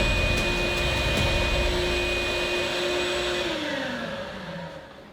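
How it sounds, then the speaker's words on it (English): A vacuum cleaner runs steadily for several seconds as it lifts loose dirt off a scale model with rock molding, its whine and hum constant before the motor winds down and fades at the end. "Don't forget to vacuum edge it."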